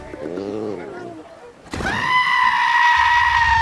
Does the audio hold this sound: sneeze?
no